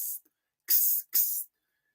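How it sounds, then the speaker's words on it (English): Two short hissing bursts from a handheld mist spray bottle, each under half a second, close and fairly loud with a brief pause between, after a faint earlier puff. "use a mist bottle to spray your mouth"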